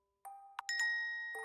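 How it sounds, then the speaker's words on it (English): A tiny bell from a Granblue Fantasy fan-made game tinkles in a few bright, clean strikes. Each chime rings out and sustains softly, with silence otherwise. "holding a tiny bell that greets them with a tinkling sound"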